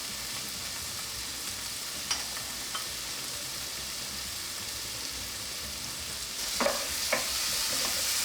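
Onions and tomatoes soften in a pan for Filipino shrimp curry, giving a low, even sizzle with a few faint scrapes and knocks of stirring, growing brighter near the end.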